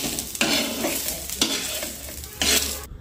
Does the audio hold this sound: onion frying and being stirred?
yes